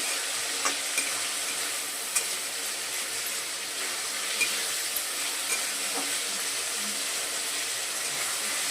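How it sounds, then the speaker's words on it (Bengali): Chicken fries quietly in a pan, a faint, even sizzle with occasional soft ticks and scrapes from stirring, no talking. "চিকেনটাকে একটু ভালো করে ভাজতে হবে"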